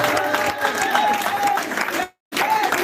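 A church congregation at a Paris revival service applauds and cheers in acclaim of Jesus, a dense, continuous wash of clapping and crowd voices that cuts out briefly near the end before resuming.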